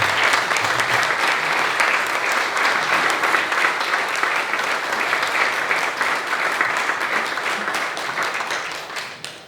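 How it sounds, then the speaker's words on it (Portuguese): A full room of people applauds at a library book launch for the poetry book "Viagem Pela Vida", a loud dense roll of clapping that stays strong and then slowly thins toward the end. "seria uma altura de dar uma salva de palmas a quem está por trás do projeto"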